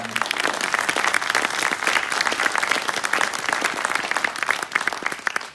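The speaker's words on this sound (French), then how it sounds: "que l'on peut applaudir bien fort pour l'encourager" Steady, dense audience applause for a speaker at a conference screening about Lesquin in 1939–1945, sustained and even throughout, tapering slightly at the close.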